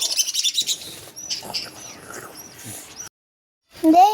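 Small birds chirp and tweet in quick bursts, with a brief silence before a sharper, close call at the end.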